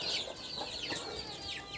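Hens clucking with a rooster among them in a farmyard coop, several overlapping calls rising and falling continuously at close range, with no talk.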